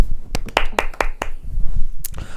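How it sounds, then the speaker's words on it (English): A short burst of hand clapping on a podcast, a handful of sharp, separate claps rather than a full crowd, close and fairly loud, followed by a brief rustle near the end. "we decided to give Raul round of applause"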